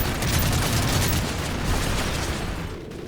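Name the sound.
gunfire in the video game Modern Warfare 3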